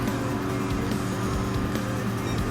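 Mazda Atenza Group 3 race car engine in Gran Turismo 7 during a GT Cup race, a steady loud droning roar that holds constant, with no talk over it.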